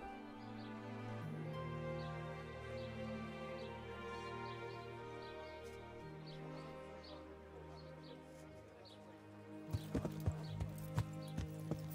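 Horse hooves clip-clop in the medieval video game Kingdom Come: Deliverance, faint at first under a steady musical drone, then a brief run of sharper, distinct hoofbeats near the end.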